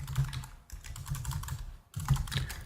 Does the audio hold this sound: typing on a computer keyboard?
yes